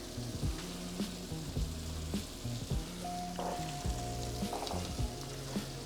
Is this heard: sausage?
yes